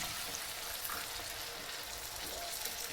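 Water from a mixer jar poured into a capsicum curry frying in a pan gives a dense, continuous hissing sizzle that holds steady for a few seconds, close and fairly loud, with no talking.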